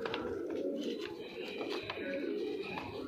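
Punjabi Malwai pigeons cooing steadily in a loft, a continuous low murmur of calls with occasional wing flutters and faint chirps, close and moderately loud, no talking.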